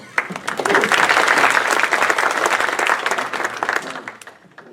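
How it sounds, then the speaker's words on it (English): An audience at a talk on family offices applauds warmly to welcome a speaker, a dense burst of clapping that swells quickly, holds steady and tapers off near the end. "So please join me in a warm round of applause here, welcoming Kip Kolson"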